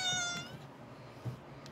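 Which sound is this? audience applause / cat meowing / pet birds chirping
cat meowing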